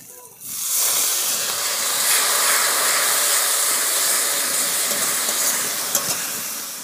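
A splash of water poured onto turmeric and chili powder frying in a pan, setting off a sudden loud, sustained hissing sizzle that stays steady and close for several seconds.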